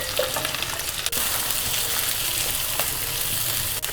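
Corn, peas, beans and capsicum frying in ghee for navratan korma, sizzling steadily and close up with a few brief clatters as they are tossed in the pan.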